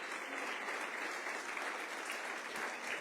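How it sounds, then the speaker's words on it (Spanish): Steady clapping from a congregation during a church service, dense and even throughout, fairly quiet and heard from some distance. "denle un aplauso al Señor"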